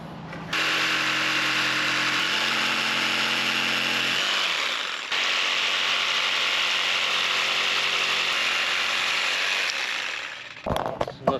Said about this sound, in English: I'm just going to do a couple with the jigsaw and we'll see if that works